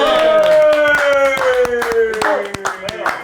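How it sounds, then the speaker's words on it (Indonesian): Hand clapping on an Indonesian TV variety show during a home visit, a few claps heard over a music bed with people talking and laughing throughout. "Tepuk tangan untuk apa sih Dita?"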